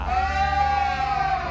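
A sheep bleats once in a steady, wavering cry, loud and close, with nothing else around it.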